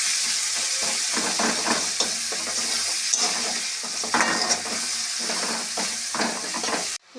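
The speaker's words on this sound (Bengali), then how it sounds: "পেঁয়াজগুলোকে এবার লাল লাল করে ভাজতে হবে।" Chopped onions sizzle steadily in a hot pan, browning for a Sunday meat curry, with recurring scrapes and stirring strokes cutting through the continuous close frying hiss and no talking.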